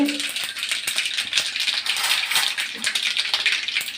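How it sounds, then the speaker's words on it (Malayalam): Mustard seeds spit and crackle in hot coconut oil, a dense rapid popping like a rattle that carries on steadily, loud and close. "വെളിച്ചെണ്ണ ചൂടായതിന് ശേഷം കടു ഇട്ട്"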